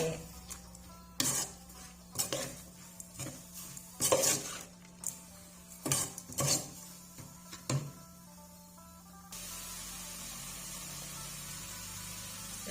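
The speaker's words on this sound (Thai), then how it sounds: "ลวนในหน่อไม้ให้มันหอมแล้วก็เอาน้ำมาใส่" Bamboo shoots are stirred in a cooking pot for an Isan fish curry, giving a series of distinct scraping, clattering knocks at an irregular rhythm, close up, followed by a steady low hiss of cooking.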